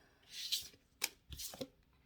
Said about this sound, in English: let me shuffle again. This deck is not being very nice.